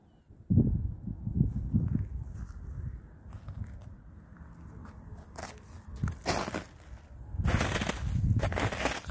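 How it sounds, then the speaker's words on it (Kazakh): Footsteps crunch and creak on hard, frozen snow outdoors in a cold winter field, irregular close-up crunches that grow louder and denser toward the end. "Қардың сықырлаған дауысы."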